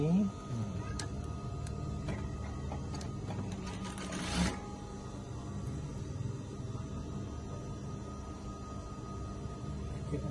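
A sewing machine stitches a baju kurung garment, running in a steady continuous whir close by, with a brief louder burst partway through and a few soft clicks.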